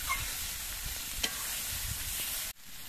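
Cabbage paste is stirred in a hot pan, with a steady sizzle and occasional scraping strokes before a sudden cut near the end.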